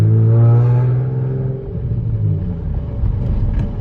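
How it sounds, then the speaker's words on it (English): A turbocharged Nissan 350Z engine revving from the cabin, a loud droning tone that drops into a deep rough rumble, steady and close throughout. "You gotta rev it, bro, like boom, boom, boom."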